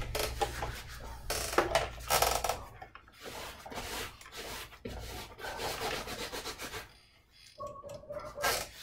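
A silicone mat is rubbed and pressed in a box of sawdust in a woodworking shop, giving bursts of gritty scraping and shuffling with brief pauses between strokes.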